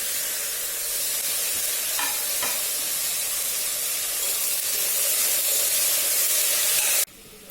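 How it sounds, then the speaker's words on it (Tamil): Chopped beans, snake gourd, cucumber, eggplant, potato and carrot fry in a pan for Tirunelveli-style kootanchoru, giving a steady, loud, broadband sizzle with a few faint stirring clicks, cut short near the end. "இப்போ நம்ம நறுக்கி வச்சுருக்க காய்கறி எல்லாத்தையும் போட்டுக்கலாம்."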